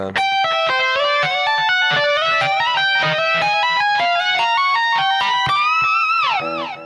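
An electric guitar plays a distorted lick note by note at an unhurried pace, steady and loud, ending with a bend that slides downward.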